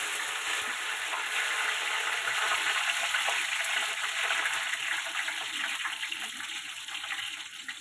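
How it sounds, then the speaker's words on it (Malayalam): Curry leaves dropped into hot oil with mustard and fenugreek seeds for a mango pickle, giving a steady, loud, continuous sizzle and crackle that holds throughout with no talking. "കടുകും ഉലുവയും മൂത്ത് വരുമ്പോൾ അതിലേക്ക് കറിവേപ്പില ഇടുക"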